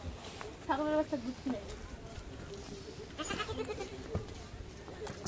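A young goat bleats clearly, first with one loud wavering cry and then with a few shorter, fainter ones, over background murmur and quiet voices.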